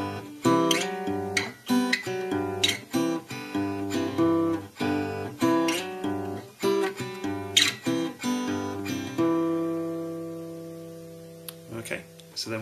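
Acoustic guitar plucking a repeated two-note melody pattern for a tutorial, clear close notes in a steady rhythm, with a final chord ringing out near the end.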